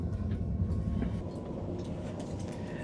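A moving single-deck passenger train in Belgium, heard from inside the carriage: a steady, low rumble with a faint rattle runs unbroken throughout, and no one speaks.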